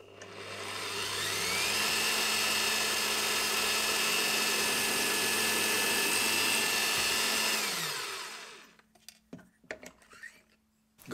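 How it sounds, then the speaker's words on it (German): A power drill bores a run of holes through wooden parts for a handmade wooden knight's castle, a steady loud whirring whine for about eight seconds that then stops, leaving light handling knocks. "jetzt fange ich gerade an, die ersten Bohrungen einzubringen, 5 Stück an der Zahl"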